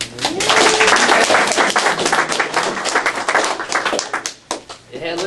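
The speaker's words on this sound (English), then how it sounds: "All right, applause." A small group in a hospital room claps for a bariatric surgery patient five days after a mini-gastric bypass, loud and close at first, then thinning into scattered claps as voices talk over the end.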